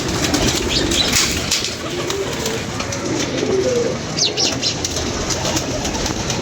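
Pigeons kept by a Lahore fancier take off and fly over a rooftop. Close wing flaps and flutters come with soft cooing and bird calls against steady outdoor ambience.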